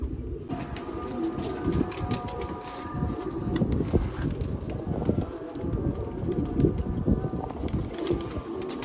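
Ferozpuri pigeons coo continuously in a low, overlapping rumble from several birds nearby, with a faint steady tone and distant background noise behind them.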